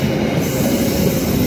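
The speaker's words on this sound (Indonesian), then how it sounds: "kereta api Argo Parahyangan ya, Argo Parahyangan Bandung Gambir" The Argo Parahyangan passenger train on the Bandung–Gambir line rolls past at close range, a loud continuous rumble of wheels on rail with a faint high squeal. No voices.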